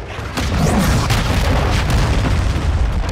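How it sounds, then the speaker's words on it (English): A cruise missile explosion in the video game Call of Duty: Modern Warfare II hits as a loud, deep boom that rolls into a sustained, heavy roaring rumble for several seconds, with no speech. "Hostile cruise missile incoming."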